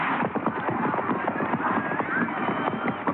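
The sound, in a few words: horses galloping in the Palio horse race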